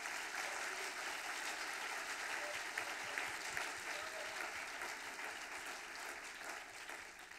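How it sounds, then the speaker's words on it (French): Audience applause at a ceremony for the SCOPS, steady dense clapping from a crowd held at an even, moderate level throughout without a break. "on peut les applaudir"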